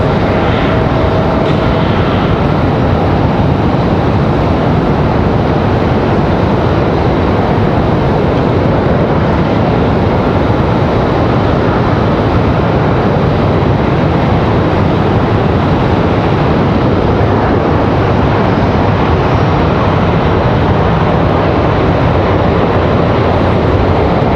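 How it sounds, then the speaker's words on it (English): A Republic Airways Embraer E175 jet arriving at Raleigh-Durham airport, with a loud, steady broadband engine roar that stays strong and close throughout. "Got another arrival, looks like a Republic Airways coming in from Pittsburgh. Republic 4514. E175."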